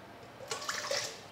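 Water poured into a bowl as the base for a salt brine for chicken karahi, a short splashing pour of about a second, close and fairly quiet.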